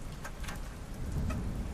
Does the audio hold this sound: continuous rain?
yes